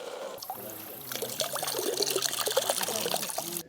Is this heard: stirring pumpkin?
no